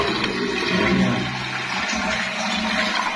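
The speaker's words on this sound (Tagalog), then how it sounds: "pindutin natin yung full moon, yung isa" A newly installed toilet bowl flushes on the full-flush button, a loud steady rush of water draining close by for several seconds without pause.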